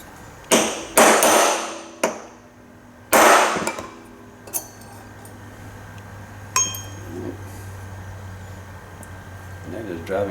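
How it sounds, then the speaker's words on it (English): A hammer strikes a punch to drive threaded grip bushings out of a Colt 1911 frame, giving several sharp metallic clinks at irregular intervals, a couple in quick succession, then fainter taps over a low steady hum. "when I hit it with the punch, it actually drives it out of the threads"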